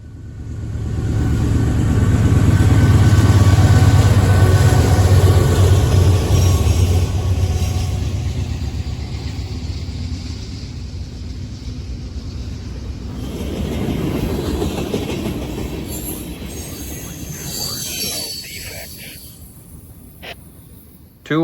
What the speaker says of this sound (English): our first train is NS 274, a northbound intermodal